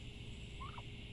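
A single turkey gobble rises out of a steady background hum on a farm, a short warbling call heard at moderate distance and fairly faint.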